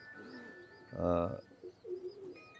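A Teddy pigeon gives a single soft, burbling coo roughly midway, quiet against a faint background with light bird chirps around it.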